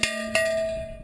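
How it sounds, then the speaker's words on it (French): An old iron bell at a hermitage, classed as a historic monument, is struck twice with a clanking, cowbell-like tone that rings on and slowly fades. "elle rend un son de clarine un peu."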